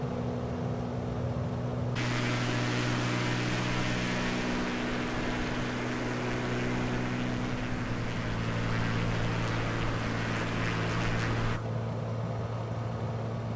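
Steady drone of a Bonanza propeller airplane climbing out after takeoff in Microsoft Flight Simulator, a constant engine hum with broadband cockpit noise and a high whine, loud and unbroken throughout with no talk.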